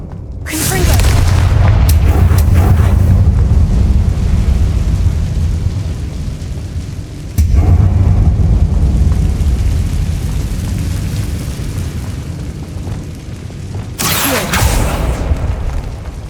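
Confringo fire spell blasts in Hogwarts Legacy: a loud, booming explosion right at the start, followed by long rumbling, crackling burning. Another sharp blast lands midway and a third burst comes near the end.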